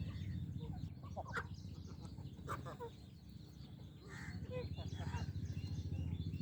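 Hen with chicks clucking softly, short scattered clucks and faint peeps over a low steady hum, with a person talking quietly nearby.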